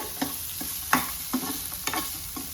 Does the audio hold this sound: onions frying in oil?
yes